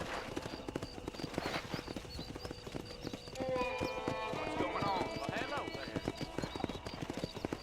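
In Red Dead Redemption, horse hooves clip-clop in a steady rhythm while a horse lets out a neigh midway. The sounds stay fairly quiet and close, with someone talking over them.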